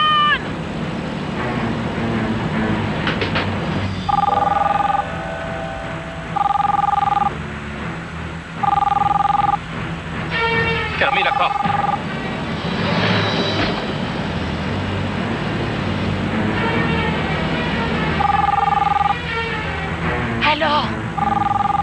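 A telephone rings in repeated bursts during a tense hostage standoff on a bus, each ring short and evenly spaced, clearly audible under loud, urgent French talk and background noise.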